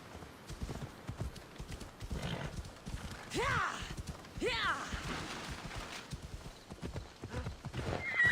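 Hooves clip-clop in a steady rhythm while a horse whinnies twice in Assassin's Creed Odyssey gameplay on PS5, voices talking underneath throughout.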